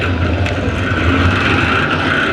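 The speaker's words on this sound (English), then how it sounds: "We're figure 8 racing at the Antelope Valley." Figure 8 race cars roar at Antelope Valley Fairgrounds, a loud, steady engine drone with no pauses and no voices.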